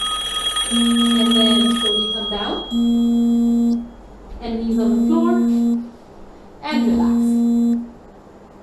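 A mobile phone rings with a tonal electronic ringtone in three bursts, repeating about every two seconds during a yoga session, while an instructor speaks calm instructions over it.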